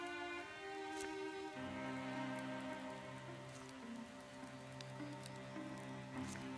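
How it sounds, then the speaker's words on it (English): Scalding Rain, a fire-themed spell effect in a video game, hisses as a steady pattering rain-like wash with a sustained low tonal hum underneath, continuous and fairly loud throughout. "It's Scalding Rain, this one."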